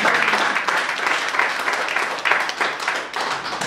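A church congregation claps loudly and steadily throughout, a dense, sustained applause at a French-speaking Montréal service with a few voices mixed in.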